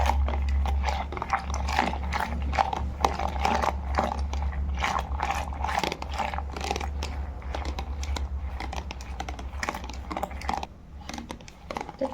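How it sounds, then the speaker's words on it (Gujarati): Curd being churned by hand for Kathiyawadi lassi, a rapid irregular series of soft wet clicks and knocks from the mixing over a low steady hum, close and continuous. "આપણું દહીં બરોબર મિક્સ થઈ રહ્યું છે"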